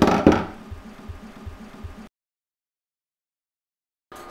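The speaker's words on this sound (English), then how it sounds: "So chopping the bacon." A knife chops bacon on a board in quick, even taps for about two seconds, followed by silence, with one brief noise returning at the end.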